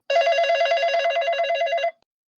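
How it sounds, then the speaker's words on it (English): A telephone bell rings steadily, a fast trilling electronic ring that continues loud and alone for about two seconds before cutting off abruptly. "Oh, there's the phone."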